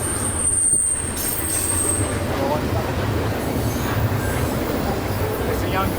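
A train rolls past steadily for the whole stretch, a dense rumble of railcars and wheels on track with faint squeals, heard from close by and without a break. One high whistle-like tone fades out in the first two seconds.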